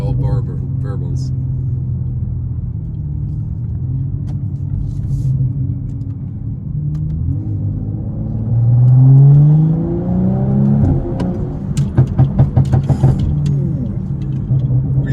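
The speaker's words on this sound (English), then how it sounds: "I just let off some massive backfires" A BMW 435i in sport mode drones at a low rumble, rises through a rev, then fires a rapid burst of loud crackling exhaust pops and backfires as the throttle lifts.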